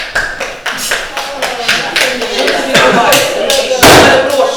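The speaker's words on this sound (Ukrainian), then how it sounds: "Збір обвинувачених у повному складі під час судового засідання був зустрінутий оплесками." Dense, sustained clapping from a crowd in a courtroom as defendants enter, loud and continuous with sharp individual claps standing out, voices faintly mixed in.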